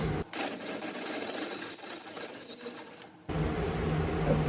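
A drill bores into the open end of a metal pipe from a two-stroke V8 boat engine, a steady whirring, grinding mechanical run that cuts off abruptly near the end, close and fairly loud.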